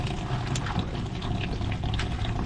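Water pouring into a skoolie's water tank, a dense, steady rushing and gurgling fill, close and fairly loud, with no talk.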